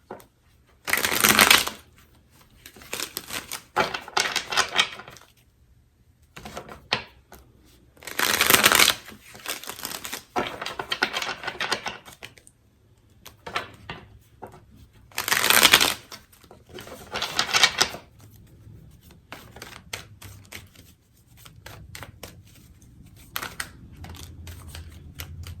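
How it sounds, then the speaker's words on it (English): Tarot cards being shuffled in repeated bursts of riffling and flicking, with bright crisp rushes separated by quieter handling and soft card slides, close up and alone with no talk. "These energies are flipping over as I'm shuffling for you"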